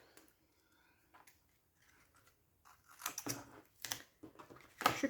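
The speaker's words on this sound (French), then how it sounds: "Ciseaux." Scissors snip through paper for a scrapbooking mini album, a few quiet cuts spaced out at first, then a closer, louder run of sharp snips and crunches near the end.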